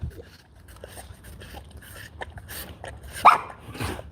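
A dog barks in short, sharp bursts near a tiger enclosure, with scattered yips and small noises around it and one louder bark standing out near the end.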